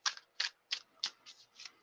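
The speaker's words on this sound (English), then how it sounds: "I'm actually shuffling for Virgo" Tarot cards being shuffled by hand, six crisp riffling bursts in quick irregular succession, close and fairly quiet with no voices.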